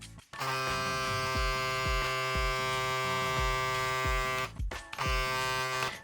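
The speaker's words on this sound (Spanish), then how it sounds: "Escuchen el de la afeitadora de motor vectorial" A VGR vector-motor electric shaver, model 334, runs with a steady high-pitched motor buzz and hum, close up, briefly cutting out once before starting again.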